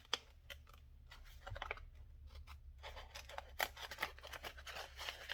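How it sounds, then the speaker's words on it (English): Quiet, close snips of scissors cutting paper for a junk journal envelope, a series of short irregular crisp cuts with soft rustling between, faint and alone without talking. "Get in there with my scissors."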